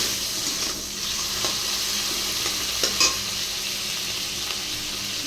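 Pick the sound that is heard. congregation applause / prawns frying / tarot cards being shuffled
prawns frying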